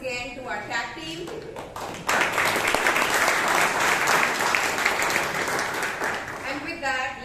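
Toastmasters meeting attendees break into clapping after a short spoken lead-in; the applause swells loud and steady for about five seconds before a voice resumes.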